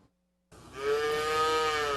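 A dairy cow on a farm lets out a single long, loud moo close by, starting abruptly after a brief silence and holding steady to the end.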